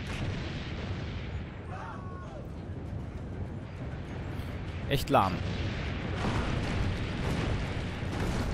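A cannon booms once amid steady battle noise in Assassin's Creed Brotherhood at Monteriggioni, a sharp, loud blast standing out from the constant rumble while a voice speaks briefly.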